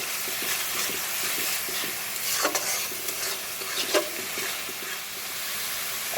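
Duck meat frying in hot oil in a pan with spiced masala, a loud steady sizzle with a couple of sharper crackling bursts as it is stirred, no talking.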